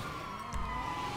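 Ambulance siren in the video game Grand Theft Auto 5, a steady wailing tone that holds at an even level for about a second, fairly loud and with no talk over it.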